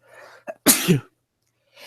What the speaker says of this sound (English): 1 second, I have to sneeze.